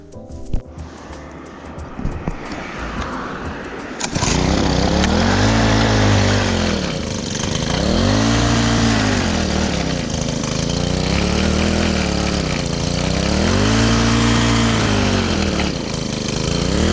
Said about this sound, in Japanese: エンジンもかかるようになりましたんで